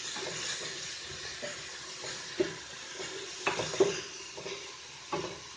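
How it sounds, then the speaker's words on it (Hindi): Whole garam masala with garlic, ginger and green chili paste frying in hot oil in a pressure cooker, giving a steady, soft sizzle with occasional small pops and stirring clinks. "फ्लेम पर प्रेशर कुकर रखना है और इसमें ऑयल डाल देना है और इसमें ये साबित गरम मसाला ये डाल देना है"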